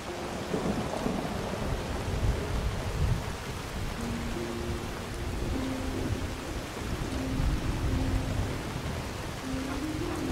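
Heavy rain and rumbling thunder in Skyrim near Falkreath, a dense continuous downpour with low rolling rumbles throughout.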